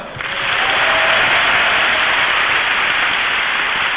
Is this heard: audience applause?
yes